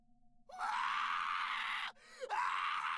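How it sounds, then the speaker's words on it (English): A character in the Corpse Party video game lets out a long, loud, piercing scream that breaks off briefly and then resumes, sustained and close, with no other sounds over it. "Give me a role where I get to scream like that."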